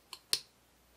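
A small, crisp click from a pin being picked inside an American Lock 5300 padlock, with two fainter clicks around it, each short and isolated against quiet.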